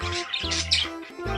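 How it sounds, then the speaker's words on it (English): A parakeet gives quick, buzzy chirps and squawks in a short, busy burst, close and fairly faint. "Parakeet."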